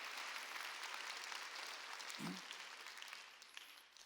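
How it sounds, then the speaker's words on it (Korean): A church congregation applauding during a Wednesday worship service: a soft, steady patter of many hands, fairly distant and even throughout, with one brief low thump partway in. "믿는 사람만 박수로"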